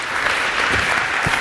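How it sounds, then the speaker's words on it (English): A crowd claps at the dedication of a new Montessori school building, a brief, even burst of steady applause from a fairly close audience. "So I think you all deserve an incredible round of applause."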